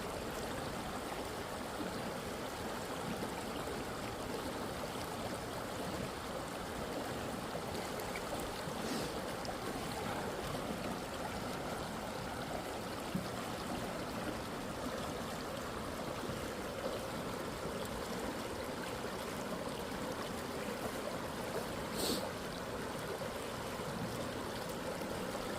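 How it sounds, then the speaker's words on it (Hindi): Water flowing steadily over a road bridge, a continuous broad rushing wash with no breaks, fairly close and with no voices. "रोड से पानी पुल के ऊपर से बह रहा है"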